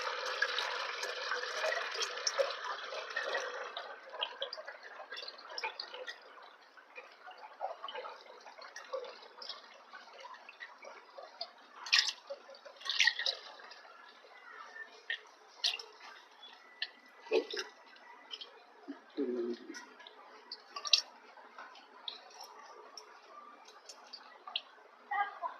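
Wood-pressed coconut oil drips and trickles into a 5-litre can, with a burst of steady pouring at first, then irregular close ticking drips and small splashes.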